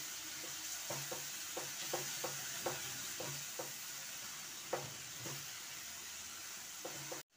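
Spiced water hitting frying masala in a pan gives a steady hiss, with light rhythmic stirring taps at regular intervals, close and quiet throughout.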